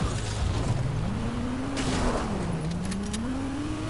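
A Ferrari engine revs steadily in the video game Fortnite, its pitch rising and falling as the car accelerates and eases off, loud and close over a constant rumble.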